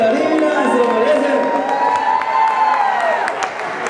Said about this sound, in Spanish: Y el aplauso fuerte para la bailarina, se merece.